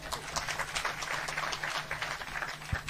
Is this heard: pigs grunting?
no